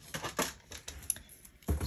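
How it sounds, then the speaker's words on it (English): Paper being cut down to size with scissors for a custom planner spread, a series of short crisp snips in irregular rhythm, close and clear, with a louder cut at the end. "So that way I can cut this down to size and it'll fit"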